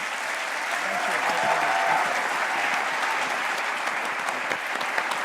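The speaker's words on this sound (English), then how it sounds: "So let's give him a round of applause." An audience at a Tel Aviv University honorary doctorate ceremony breaks into sustained applause, a dense, even wash of clapping from a large crowd that holds steady throughout.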